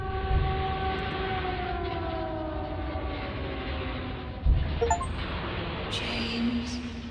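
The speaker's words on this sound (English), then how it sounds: "You hear that siren?" The air-raid siren from the Silent Hill 2 Remake that signals a shift to the Otherworld, a steady, wailing tone that drones on for the whole stretch over a dense rumbling industrial background.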